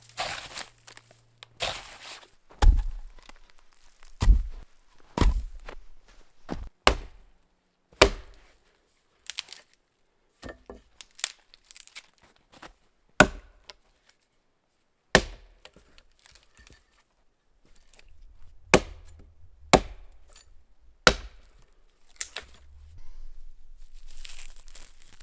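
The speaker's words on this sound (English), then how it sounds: "So the snowshoe will have to do for a shovel today." A snowshoe stands in for a shovel at a winter campsite, digging into snow with repeated sharp crunching chops spaced a second or two apart, close and loud, followed by scraping and shuffling.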